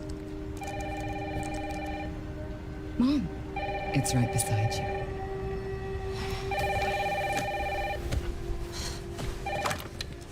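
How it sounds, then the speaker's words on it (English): A telephone ringing in a video game, repeated electronic ring bursts in a regular pattern, with a voice speaking between the rings. "Mom, phone"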